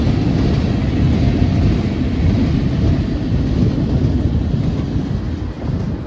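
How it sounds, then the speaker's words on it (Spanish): A Lisbon tram ride sounds as a loud, steady rumble of wheels and motor with wind buffeting the microphone, continuous and close throughout, easing slightly toward the end. "Pasaría todo el día viajando en ellos, en estos tranvías"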